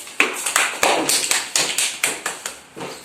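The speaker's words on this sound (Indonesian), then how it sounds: "Berikan tepuk tangan untuk Hadi." Rhythmic hand clapping at a classroom lesson, about a dozen sharp claps at a steady pace, fairly close, with no talking.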